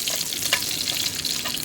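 Five dried red chillies frying in hot mustard oil, a close, continuous bright sizzle and crackle broken by small spattering pops, with no voices over it.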